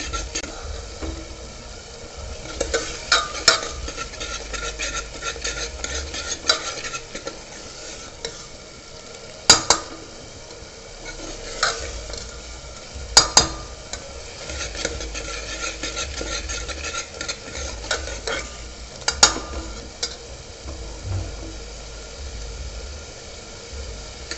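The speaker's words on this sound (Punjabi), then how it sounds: "ਆਪਾਂ ਪਿਆਜ਼ ਨੂੰ ਨਾ ਚੰਗੀ ਤਰ੍ਹਾਂ ਭੁੰਨਾਂਗੇ ਜੀ ਜਦ ਤੱਕ ਇਹ ਬਿਲਕੁਲ ਬ੍ਰਾਊਨ ਨਹੀਂ ਹੋ ਜਾਂਦੇ" Onions roasting in a pan for a green chickpea paneer dish, stirred steadily with a utensil: a continuous soft sizzle with repeated scraping strokes and a few sharp metallic clinks against the pan, close and with no talk.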